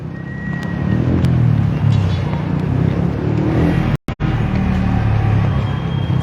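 Heavy road traffic rumbles below the Ungka flyover, engines droning and vehicles passing continuously nearby in a dense, steady low roar, with one sharp momentary dropout midway.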